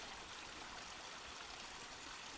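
Fresh, cold mountain stream water rushes steadily along a trail in Mount Rainier National Park, a continuous close, even wash with no voices.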